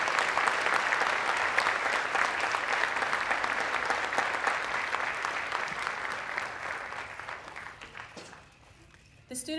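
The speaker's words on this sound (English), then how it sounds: "let's give her another round of applause." A large audience at a Native American student recognition event claps steadily and loudly, the applause continuing for several seconds before tapering off.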